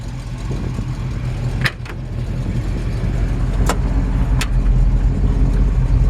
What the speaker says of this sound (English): I love the way the engine sounds. I think it sounds really good. It sounds like an old truck